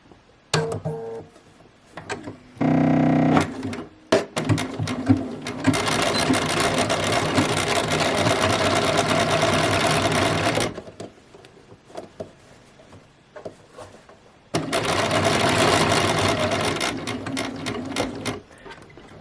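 A sewing machine stitches a pinafore dress in two long, steady runs of rapid mechanical whirring, separated by a quiet pause and a few short starts at the beginning.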